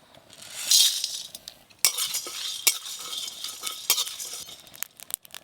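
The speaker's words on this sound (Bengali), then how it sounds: "এই দেখুন পটপট করে আওয়াজ হচ্ছে," Whole cumin, coriander, black peppercorns, garam masala and bay leaf dry-roast in a pan, popping and crackling in quick irregular bursts with scraping stirs and light metal clinks, close up with no talking.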